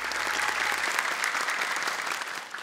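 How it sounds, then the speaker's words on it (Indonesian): A studio audience applauds steadily for a child after a Hijaiyah letter challenge on an Islamic children's show, a dense, continuous clapping that stays loud for nearly three seconds and fades slightly at the end. "boleh tepuk tangan untuk Kak Nabila."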